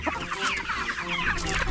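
Chickens cluck busily at feeding time on a farm, a dense, close chorus of overlapping clucks and squawks that runs steadily through the clip with no talking.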